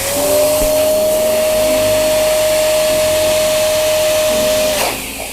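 An electric air pump blows up an 18-inch balloon with a loud, steady, close whine that holds an even pitch for about five seconds before cutting off.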